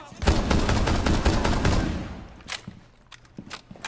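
Rapid bursts of video game weapon fire crack close and loud for about two seconds, then fade into a few scattered, quieter shots and faint footstep-like taps.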